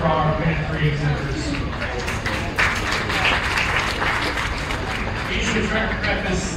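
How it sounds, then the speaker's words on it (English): Applause for the pen-of-three exhibitors rises at a county fair swine show. Steady clapping spreads through a crowd in a livestock arena, under a continuous noisy background. "Let's give a round of applause for our Pen 3 exhibitors."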